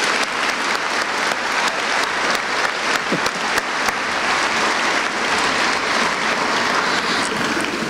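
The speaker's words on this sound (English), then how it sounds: "Let's give them a round of applause." A graduation audience gives sustained applause: dense, even clapping from a large crowd that fills the hall steadily from start to finish, with no talk over it.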